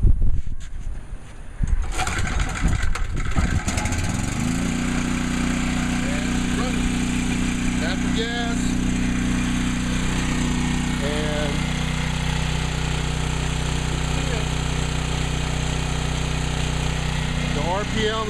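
Small trifuel portable generator engine is pulled to life with the carburetor on choke, a few seconds of rough starting clatter giving way to a loud, steady, close running drone with a faint whine.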